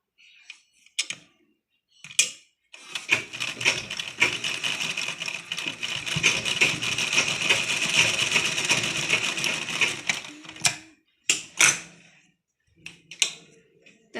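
A sewing machine stitches layered fabric for a blouse latkan, running steadily for about eight seconds with short start-stop bursts of needle clatter before and after, close and fairly loud.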